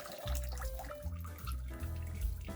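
Water drains out of a tank fill tube while an RV is being winterized, close splashing and trickling with irregular gurgles and drips throughout, and nobody speaking.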